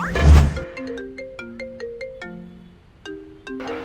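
A mobile phone ringtone plays a bright repeating melodic tune for about four seconds, a clear electronic chime with a brief burst of noise at the start and no voices.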